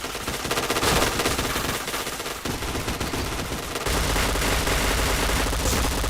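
Automatic gunfire in a shooter video game rattles in fast, continuous bursts, loud and dense from start to finish, with no talking.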